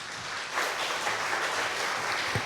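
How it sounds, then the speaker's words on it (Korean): A church congregation claps to welcome a guest preacher to a Sunday worship service, a soft, steady patter of many hands that builds slightly after the start and carries on evenly without speech. "박수로 환영할까요?"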